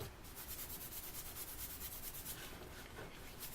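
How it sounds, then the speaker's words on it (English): A lint brush scrubs steadily over a decal taped flat to cardboard, a soft continuous rubbing hiss that stays faint and even throughout with no pauses. "I take my lint brush and I'm gonna scrub on top"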